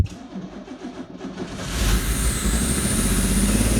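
An abandoned lowrider car's engine cranks and catches at about 1.7 seconds, then settles into a loud, steady idle that runs alone to the end.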